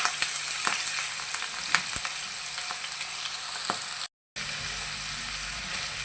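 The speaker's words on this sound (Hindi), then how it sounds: "अब मैं प्याज इसमें शामिल करूँगी। आयल हमारा ऑलमोस्ट गर्म हो चुका था।" Onions dropped into nearly hot oil for a spiced okra and chicken masala, giving a loud, dense, even sizzle close by, with a few sharp clicks of stirring and a brief cut-out near the end.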